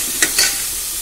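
Softened onions sizzle in a pan as tomato goes in, giving a steady frying hiss broken by two quick, close scraping stirs.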